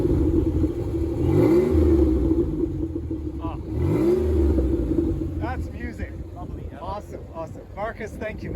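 A Pontiac Fiero mid-engine sports car with a Spin Tech muffler revs twice in quick, rising blips over its idling rumble, then settles as people begin talking over the engine.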